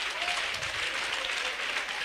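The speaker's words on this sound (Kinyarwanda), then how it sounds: "Mukomere Yesu amashyi, itorero ryo rirahari." A church congregation claps during a sermon, with dense, steady applause filling the room throughout, heard at moderate distance without speech over it.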